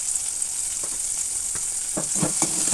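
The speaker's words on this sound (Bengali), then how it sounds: "টমেটো পেঁয়াজ আর আদা রসুন পেস্ট দিয়ে এবার অনবরত নাড়াচাড়া করে আমি কষিয়ে নেবো" Tomato, onion and ginger-garlic paste stir-fry in a pan with a steady, close hiss of frying, broken by a few soft spatula knocks and scrapes, and no voices.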